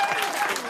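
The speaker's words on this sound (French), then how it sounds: "il y a une gamine qui applaudit au premier rang" Brief burst of audience clapping at a live comedic talk show, a steady dense patter of many hands with a faint trace of voice mixed in.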